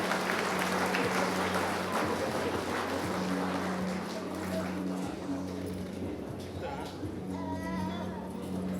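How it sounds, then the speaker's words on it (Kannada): At a Chief Minister's medal award ceremony for forest officials, an audience claps in a broad burst that fades over several seconds, as amplified speech continues over the hall. "ಅವರಿಗೂ ಸಹ ಚಪ್ಪಾಳೆ ಬರಬೇಕು"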